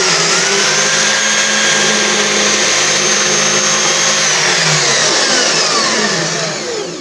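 A Vevor portable bandsaw cuts through a cherry pen blank with a loud, steady, high whine that holds for about seven seconds, then eases slightly at the end.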